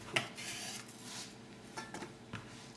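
A knife chops vegetables on a board in quick, uneven strokes, producing faint close-up taps and scrapes mixed with a light rasping rub.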